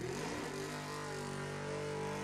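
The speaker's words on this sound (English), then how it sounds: "Ooh, boy, did he spin the tires." Drag race car launching at a Halloween club drag race, its engine roaring loud and steady with the tires spinning at the hit, close and continuous for the whole stretch.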